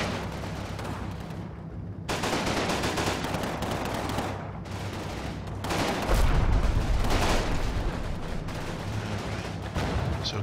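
Gunfire in the Combat Mission: Final Blitzkrieg war game during a US campaign battle at Bigonville: dense, loud, continuous bursts of rifle and machine-gun fire with heavier booms mixed in, with no voices.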